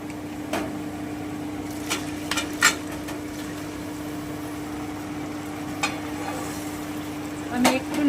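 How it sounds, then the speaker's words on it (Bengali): Boiled mutton tipped into a pan of fried onions for mutton kalia, giving a steady low sizzle with a few sharp clatters of a stirring spoon against the pot, close and moderately loud. "এবারে আমি সেদ্ধ করা মাংসটা এতে দিয়ে দিচ্ছি"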